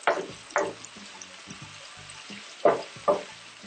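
Onions and garlic sweat over medium-low heat in a cast iron skillet, with a soft, steady sizzle and a few louder scraping bursts from stirring close by.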